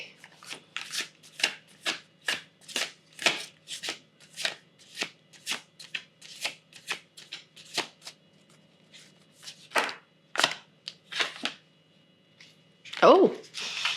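Moonology Oracle cards being shuffled in a rapid run of crisp riffling bursts, steady for around ten seconds, then a few scattered shuffles and a final louder rustle near the end, all close and with no talking.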